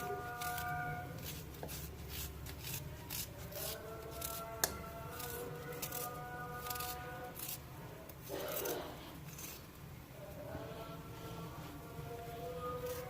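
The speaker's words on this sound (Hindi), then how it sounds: "इस तरीके से बारीक बारीक सा प्याज हम काट लेंगे जल्दी से।" A knife finely chops onion on a board for potato pakoras, a quiet run of quick, uneven tapping cuts close up with brief pauses.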